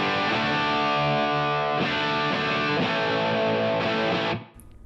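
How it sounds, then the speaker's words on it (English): Electric guitar through a Helix Native reverb effect, a sustained chord ringing with a few re-struck strums, washing out into a reverb tail before cutting off near the end. "It's such a great reverb."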